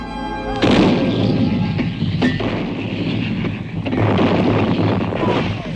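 Deep, rumbling World War I artillery booms rolling over a continuous roar of distant gunfire, with a few sharper cracks breaking through the dense battlefield din.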